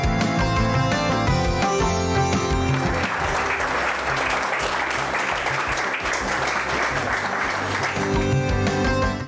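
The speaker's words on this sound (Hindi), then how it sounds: "भरपूर तालियों से इस्तकबाल किया" University sports students applaud a world wrestling champion, loud sustained clapping rising in over music that plays before and after, then giving way to the music again.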